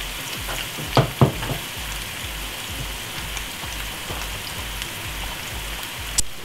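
Garlic salmon fries in a pan with a steady, dense sizzle and crackle, close and continuous, with a few sharper pops and clinks and no talking.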